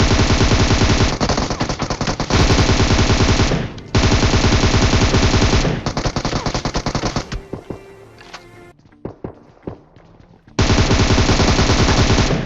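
Rapid automatic rifle fire from an AKM in the game PUBG Mobile, loud sustained bursts broken by short pauses and a few scattered single shots in the middle.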